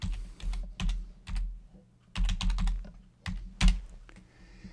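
Keys tapping on a computer keyboard in short, uneven clusters of close, clear clicks with brief pauses between bursts, no voices.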